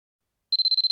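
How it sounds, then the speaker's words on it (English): A silver wristwatch beeps in a rapid, steady series of high electronic pulses, about eight in half a second, starting abruptly after silence, close and clear. "The silver watch on Jessica's wrist began to beep at her."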